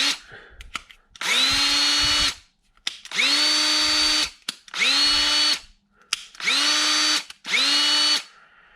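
A Ridgid 18V cordless drill/driver whirs up to speed in five separate bursts, each about a second long, with brief pauses between runs.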